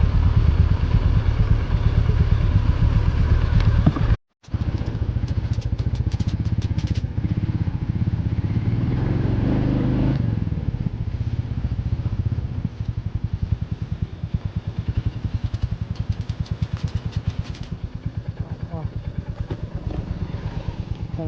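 A Royal Enfield Meteor and a Domino 250 motorcycle run with a steady close engine rumble and mechanical clatter, sustained throughout apart from one brief dropout, with no talking.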